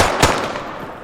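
A short burst of gunfire in the military shooter game Squad, set in a Fallujah-style urban battle: one sharp loud crack followed by a decaying echo.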